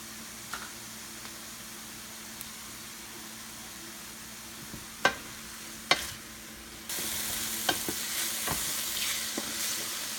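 Mushrooms sauté quietly in a pan with a few herb sprigs, a soft sizzle and hiss broken by occasional sharp clicks and stirring knocks, with the frying hiss growing louder in the last few seconds.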